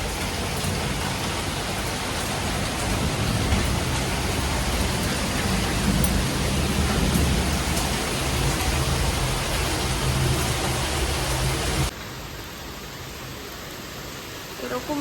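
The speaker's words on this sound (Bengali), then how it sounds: "ভীষণ জোরে বৃষ্টি হচ্ছে।" Very heavy rain pours down in a dense, steady roar close by, continuous throughout and easing slightly in level near the end.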